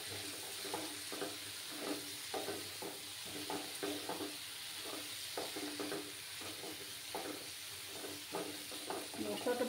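Masala with kasuri methi frying in a pan, a steady hiss of sizzling under repeated scraping stir strokes of a spatula, close and even throughout.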